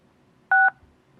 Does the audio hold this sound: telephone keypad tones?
yes